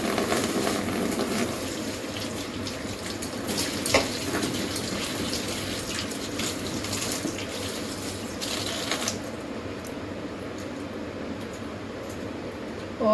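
Tap water running steadily into a kitchen sink while vegetables are washed, a continuous splashing hiss that cuts off near the end.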